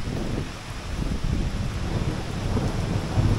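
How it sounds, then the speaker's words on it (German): A thunderstorm rolls overhead, with steady rain hiss and wind noise on the microphone under low, rumbling thunder that swells toward the end. "Und ein paar Blitze kommen auch noch hinterher."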